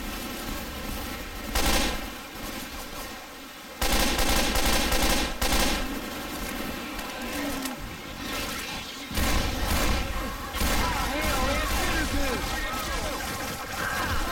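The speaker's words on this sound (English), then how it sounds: "Don't shoot! Stop shooting!" Bursts of gunfire ring out in Left 4 Dead 2 during the Hard Rain campaign, loud volleys that start and stop in clusters over a constant watery rumble, with players talking over the shooting.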